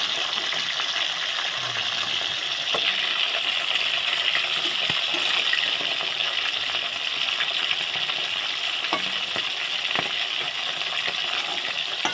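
Chicken pieces frying in a pan for shop-style chicken biryani give a steady, moderate sizzle with scattered small pops and crackles throughout, and no one speaks.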